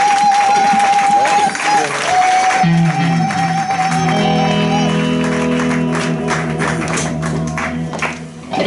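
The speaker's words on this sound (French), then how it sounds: "Acclamons très très fort notre Dieu" A church congregation breaks into loud, sustained applause with scattered shouts and whoops, and sustained musical tones ring underneath the clapping.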